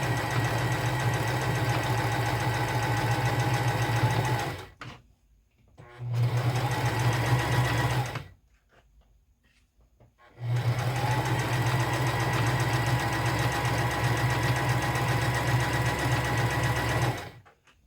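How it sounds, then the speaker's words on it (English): A sewing machine stitches a 5/8-inch seam on a denim jacket, its steady mechanical hum running loud and close in three long bursts separated by short silent pauses. "we're going to be sewing at 5/8 of an inch"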